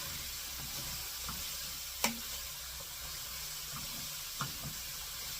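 Fajita mix sizzles softly in a hot pan while a spoon stirs it, a low steady hiss broken by one sharp metallic clink and a couple of lighter taps, no one talking.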